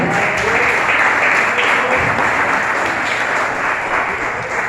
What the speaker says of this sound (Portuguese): Você que acredita nisso, aplauda ao Senhor